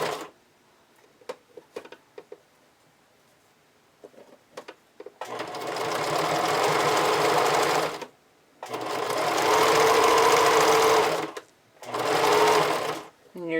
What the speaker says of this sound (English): you're just stitching along that lower edge of the elastic